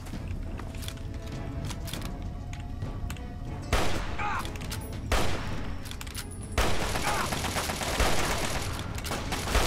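Assault rifle gunfire in the Fallout 3 video game, with bursts of shots and thuds over a dense, noisy battle backdrop, moderately loud and clustered in several sharp volleys.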